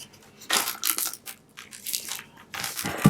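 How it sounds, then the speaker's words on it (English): Transfer tape is burnished down onto a Halloween Boo sign, giving close, rough scraping rubs that come in short bursts with brief pauses between them. "So I'm going to burnish this down, and I'll peel the transfer tape up."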